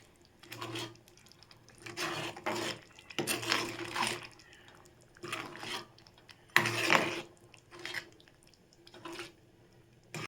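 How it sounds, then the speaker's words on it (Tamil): Veg keema curry being stirred in a pan after salt is added, heard as a series of soft scraping and rubbing strokes in uneven bursts, fairly quiet and close. "உப்பு சேர்த்து நல்லா கிளறிக்கோங்க."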